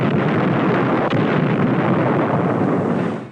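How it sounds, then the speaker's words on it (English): Bangalore torpedoes and grenades exploding in a 1944 World War II battle in the Marshall Islands make a loud, sustained, rumbling roar of blasts that rolls on for several seconds before cutting off. "blowing them apart with bangalores and grenades"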